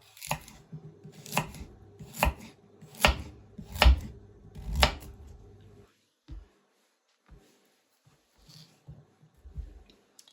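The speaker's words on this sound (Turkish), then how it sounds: "İlk önce patateslerimizi ve havuçlarımızı doğrayarak başlıyoruz." Knife chopping potatoes and carrots on a cutting board, six firm evenly spaced chops, then quieter scattered taps and small kitchen sounds.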